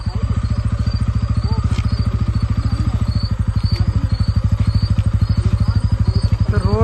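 A motorcycle engine runs close by with a steady, fast, loud pulsing putter, a constant idle-like rhythm that lasts the whole stretch.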